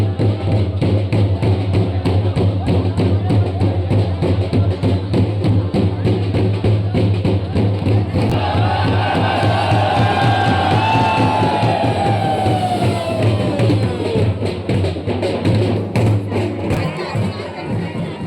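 A large crowd of devotees roars and chants at a village sacred jackfruit tree felling, with a heavy steady drum beat pounding underneath and rising shouts partway through.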